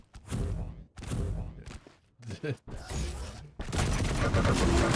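Shotgun blasts boom out in a fast arena duel of a classic shooter, several loud sharp shots separated by brief pauses, then a dense burst of gunfire and game noise at the end.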